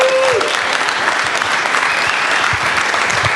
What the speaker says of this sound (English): Ladies and gentlemen, a massive round of applause for Mr.